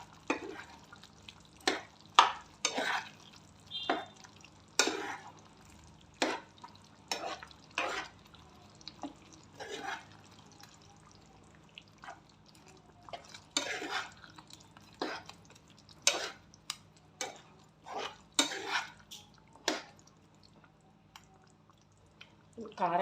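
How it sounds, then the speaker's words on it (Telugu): Spoon stirs chicken curry with chili powder in a pan, village-style home cooking: a steady run of sharp scraping clicks and clacks in an irregular rhythm, close up, over a low background hum. "యాడ్ చేసుకొని ఇప్పుడు చికెన్ని బాగా కలుపుకోండి"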